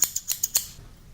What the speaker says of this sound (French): Je prends des ciseaux.